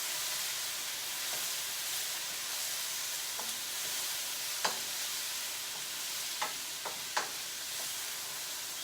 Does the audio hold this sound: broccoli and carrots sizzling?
yes